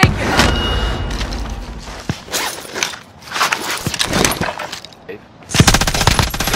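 A light machine gun rattles in rapid, loud bursts in a video game, with several sustained volleys separated by short pauses, thuds and footsteps, and a final close burst near the end.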